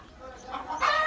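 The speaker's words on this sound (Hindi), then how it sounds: "दूसरे मुर्गे भी खेल कूद रहे हैं।" Roosters and hens on a small backyard poultry setup cluck and call in short bursts, growing louder toward the end, with no talk over them.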